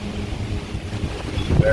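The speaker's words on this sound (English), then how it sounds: "It's windy." Gusty, cold wind buffets the microphone in a garden with low rumbling and rushing noise, steady throughout with a brief tonal chirp near the end.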